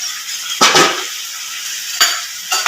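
Eggplant for an egg-and-eggplant curry frying in oil in a pan on low heat, a steady soft sizzle broken by three louder scraping stirs of a utensil against the pan; no talking.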